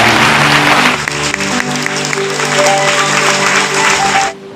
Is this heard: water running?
no